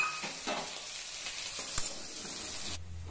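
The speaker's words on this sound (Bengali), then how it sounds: "এবার আমি পেঁয়াজ কিছু দিয়ে দিলাম।" Sliced onions frying in a pan in a home kitchen, a soft, steady sizzle and hiss with a few clinks of stirring, fairly quiet and close, with no talk over it.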